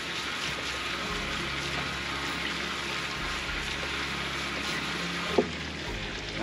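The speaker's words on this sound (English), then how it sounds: "I'm gonna rinse some of the grease off that's on top" Water spraying and rinsing grease off the top of a Blackstone griddle, a steady close hiss of running water with one brief knock near the end.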